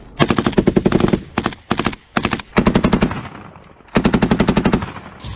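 Loud, close bursts of rapid automatic gunfire aimed at a drone, several long strings of shots separated by short pauses.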